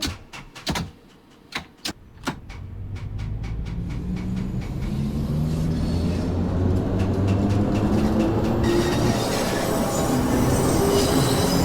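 An IC train passes on rails: a few sharp clacks at first, then a rising, steady rumble of wheels and cars that grows louder and fills the rest of the clip.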